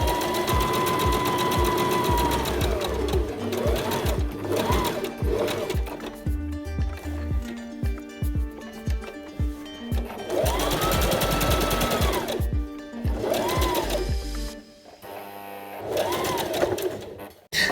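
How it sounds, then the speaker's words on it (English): A sewing machine stitches a patch pocket on a dress in several close, rapid bursts, its fast mechanical whirr starting and stopping with short pauses between seams. "you can stitch it till the end because we are going to have the mitered corners"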